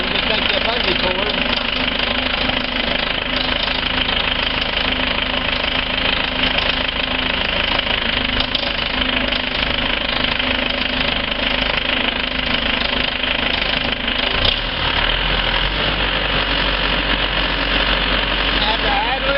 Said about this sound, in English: Have to idle it up some.